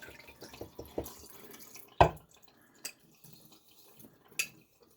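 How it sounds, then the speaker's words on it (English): Tap water running over a Coticule sharpening stone, heard as sparse drips and splashes with one sharper splash partway through, close and fairly quiet against a near-silent background. "Now under running water."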